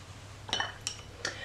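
A paintbrush used with Derwent tinted charcoal pencils is swished in a glass water jar, giving three light, quick clinks against the glass over a faint background hum.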